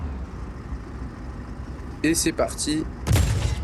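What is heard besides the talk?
machine gun and cannon firing at a train, Just Cause 4 video game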